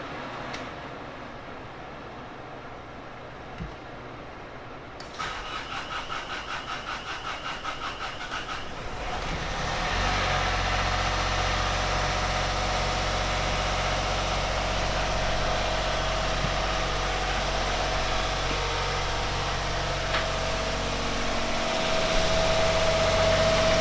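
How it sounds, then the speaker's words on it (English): A diesel engine on a Sea Ray 440 boat cranks and starts, then settles into a loud, steady rumbling idle that continues to the end, with faint clicks before it fires. "I'm going to go ahead and start each of the diesel engines"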